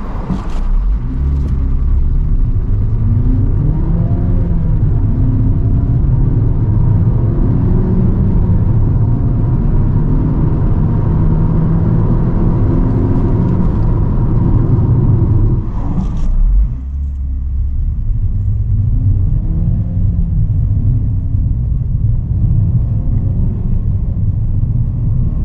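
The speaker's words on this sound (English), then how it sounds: "This becomes apparent only under heavy acceleration when you are asking the vehicle, I want all the power you have." A 2024 Suzuki Vitara Hybrid accelerates hard, its engine and road noise building into a loud, continuous rising drone that drops sharply at a gear shift near the middle, then climbs again.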